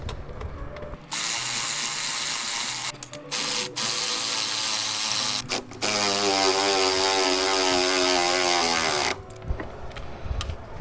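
An electric or air ratchet runs in long whirring bursts, driving the bolts of an MK6 dogbone lower engine mount into place. The sound is close and steady, with brief stops between runs and a higher, pulsing whine near the end.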